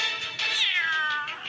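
A cat in the Ice Scream horror video game lets out a single drawn-out, wavering yowl, loud and close, rising then sliding down in pitch with no speech over it.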